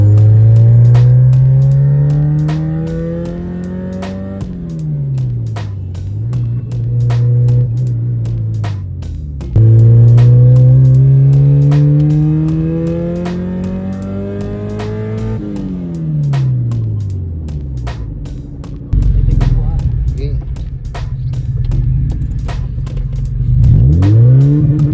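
A modified Fiat Uno engine revs hard and pulls away repeatedly on a test run, climbing through gears with rising, falling harmonics and steady loud rumble, no talk.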